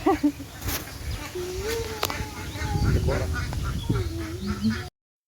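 Village ducks quack in irregular bursts under loud outdoor chatter, with voices talking over the calls throughout.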